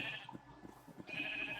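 Minecraft sheep bleat faintly in a barn, with a few short, wavering calls spread over a second and a half.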